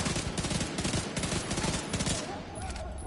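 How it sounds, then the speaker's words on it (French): Rapid three-round bursts of gunfire from The Division 2 crackle in quick succession, dense and fairly loud, repeating through the moment. "Ah, les petites rafales de 3, c'est quand même réjouissant"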